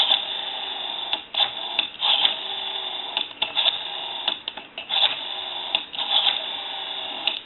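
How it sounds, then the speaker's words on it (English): Rotary dial on a cleaned, oiled and adjusted Western Electric Princess telephone, turning and returning in repeated whirring, clicking runs with short pauses between them, heard close up. "We also went through the rotary, cleaned, oiled, and adjusted the rotary. It's nice and smooth and turning the way it should now."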